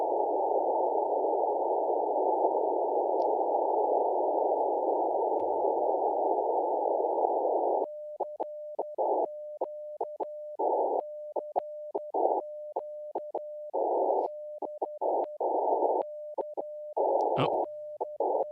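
CW Morse code sent as a clean single-pitch sidetone: one long unbroken tone, then a brisk run of keyed dots and dashes, loud and close with no voices.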